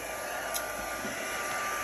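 A hair dryer blows steadily and evenly, drying a freshly painted art journal page; the airflow hum stays close and constant throughout with no talking.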